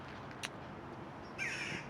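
Crows gathered in two trees on a Swedish morning, two faint distant caws separated by quiet outdoor hiss, no voices.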